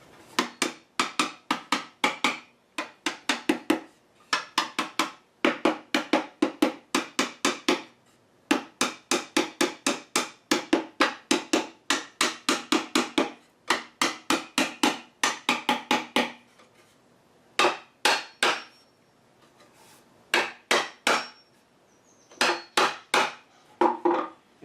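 Tenons on a rod back Windsor chair are driven home during glue-up with rapid, sharp hammer blows in repeated bursts, each a quick run of strikes separated by short pauses, close and loud with no speech.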